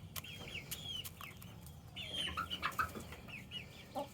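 Chickens, both grown hens and younger chicks, cluck and chirp at close range in a quiet yard, with soft scattered calls building into a brief busier flurry.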